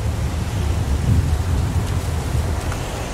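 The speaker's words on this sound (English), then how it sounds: "It's pouring rain." Pouring rain with low thunder rumbling in the video game Heavy Rain, a dense, continuous wash of rainfall that stays loud and steady throughout with no voices.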